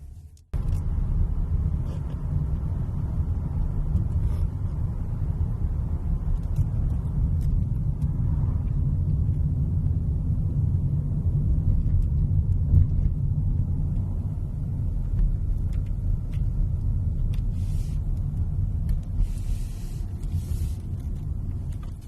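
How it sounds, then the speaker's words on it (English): A 2021 Rolls-Royce Ghost heard from inside while driving, a low, steady, hushed rumble of engine and road with almost nothing above it, continuous and even throughout. "So what does that engine noise actually sound like when you're driving the car?"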